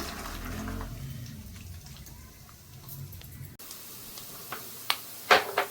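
Peanuts frying in oil for gongura pachadi: a steady close sizzle and hiss gives way to quieter scattered pops and light clicks.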